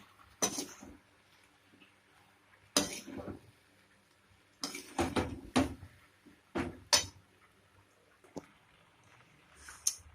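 Vegetable pasta in red sauce being stirred in a pan, with a spoon clinking and scraping against the metal in irregular bursts separated by quiet pauses.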